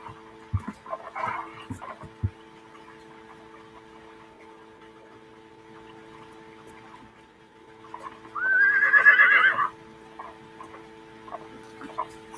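A horse in a video game gives a single loud whinny while being ridden, rising and falling for about a second amid faint, sparse background noise.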